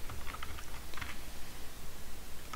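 Quick, light keystrokes patter on a computer keyboard while C code is entered, a close and fairly faint run of irregular taps with no voices.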